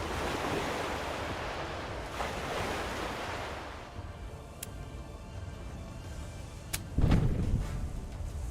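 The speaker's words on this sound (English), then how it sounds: "That's a third mortar miss on that guy." A mortar shot misses in the pirate naval game Tortuga: A Pirate's Tale. A dull, distant boom thuds out over steady rushing surf and wind.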